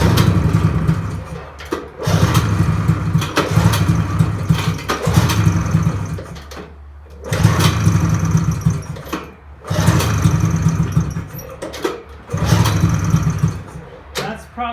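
A vintage Polaris engine cranks in repeated bursts of about two seconds each, a loud rapid churning that stops and restarts several times without catching, with short quiet gaps between attempts.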